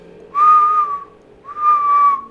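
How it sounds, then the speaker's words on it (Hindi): A person whistles two clear, sustained notes in a row, each sliding slightly downward, close and fairly loud with a short pause between them. "क्या आपको पता है कि हम लोग जो सीटी मारते हैं"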